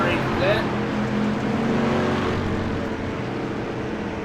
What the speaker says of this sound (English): you can see how the cars are getting a feel for the track and seeing how loose it is